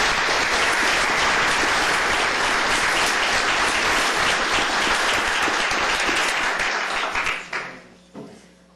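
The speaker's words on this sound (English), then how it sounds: "Let's give these folks a round of applause." Loud, sustained applause for honored employees at a county commissioners court meeting, a dense crowd of clapping that holds steady, then tapers off into a few last claps.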